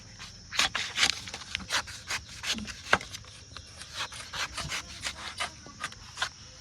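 Knife chopping into palm fruit in a series of sharp, irregular close strikes and scrapes, with faint people's voices in the background.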